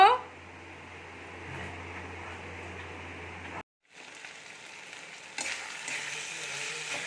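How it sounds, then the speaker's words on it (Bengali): Spice paste sizzling in hot oil for pointed gourd with prawns, a steady close frying crackle that cuts out briefly midway, then returns brighter as stirring resumes. "মশলাটা কষানো হয়ে গেছে মশলাটা থেকে দেখুন কত সুন্দর তেল ছেড়েছে"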